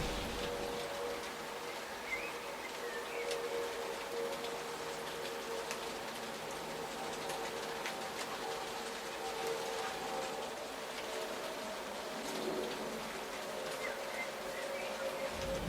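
Steady rain falls outside over an allotment garden, a soft continuous hiss of drops with no voices, faint and even throughout.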